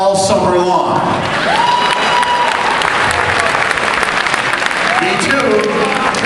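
Comedy club audience claps together in a loud, dense burst of applause with some cheering, as a comedian's voice carries over the top.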